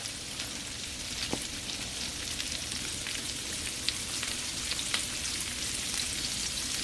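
Asparagus sautéing in a skillet, seasoned with Himalayan pink salt, giving a steady, close sizzle and crackle of frying with occasional small pops and no voices.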